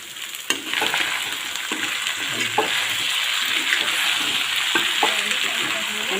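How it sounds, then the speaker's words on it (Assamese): Chicken meat frying in a pan gives a steady, close sizzle throughout, with scattered clinks and scraping as it is stirred, and no talk over it. "মই 15 মিনিটমান ভাজি আছোঁ মাংসখিনি"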